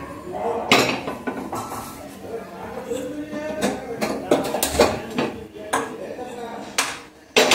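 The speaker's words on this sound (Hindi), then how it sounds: "ये रहा तवा." A tawa griddle pan is handled among dishes in a home kitchen, giving repeated sharp metallic clanks and clinks in irregular bursts, close and fairly loud, with faint talk in the background.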